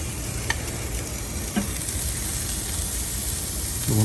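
Broccoli frying on a Big Green Egg grill at a family barbecue night, a steady close sizzle and hiss with a few light clinks of stirring, loud and continuous with no talking.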